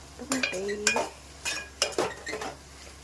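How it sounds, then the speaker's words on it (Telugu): A spoon scrapes and knocks against a pan while broad beans curry with coriander powder is stirred, giving a few separate clinks and scrapes in an irregular rhythm, close and clear. "చిక్కుడుకాయ వేసి దానిపైన ధనియాల పొడి వేసి కలుపుకోవాలి."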